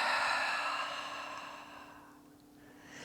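A slow, soft exhale out through the mouth during guided yoga breathing, a single long breath fading gradually over a few seconds, quiet and close.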